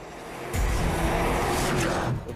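A Porsche Panamera engine fires back up after an automatic stop-start shutdown, a sudden loud broadband rumble that swells in and holds steady close by, with no talking.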